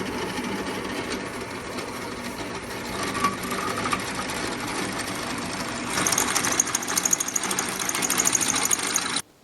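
A Ford 7.3 Powerstroke diesel engine that will not start, after glow plug, IPR and ICP replacement, grinds on the starter with a continuous rough mechanical whir that grows louder and harsher near the end, then cuts off abruptly.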